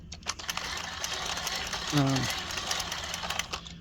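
Knitting machine cranked to make a curler hat, heard as a steady close mechanical whir and clatter throughout, with a brief squeaky tonal rise in the middle.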